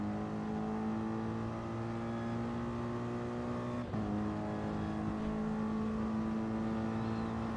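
A Porsche race car howls at steady high revs around Suzuka in a racing sim, one continuous loud engine drone with a brief gear-shift dip midway, no talk.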